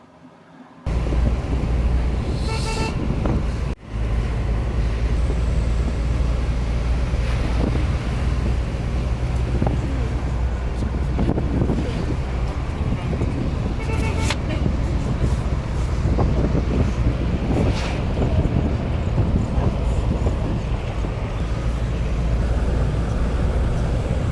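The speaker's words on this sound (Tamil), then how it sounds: "நாம் இப்பொழுது கொடைக்கானலிலிருந்து பழனி வழியாக சாலை மார்க்கமாக காரில் வந்து கொண்டிருக்கின்றோம்" A car travels the hill road from Kodaikanal to Palani. A steady low road rumble mixes with continuous wind buffeting throughout, with no voices.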